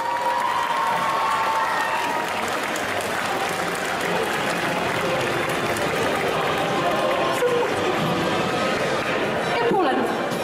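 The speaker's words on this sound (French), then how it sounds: "je vous demande d'applaudir bien fort" A large indoor crowd at a cosplay contest applauds loudly and steadily, with cheering and chatter mixed into the dense clapping throughout.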